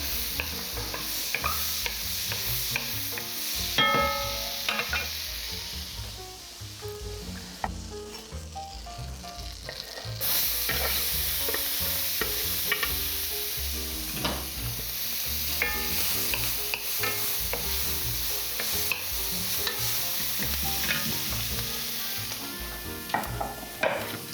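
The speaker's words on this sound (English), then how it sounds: "Once the butter has melted, I'll start with the onions." Onions cooking in melted butter in a pan, with steady close sizzling and frying crackle running throughout, joined by frequent scraping and stirring clatter and short metallic utensil clicks, and no voices.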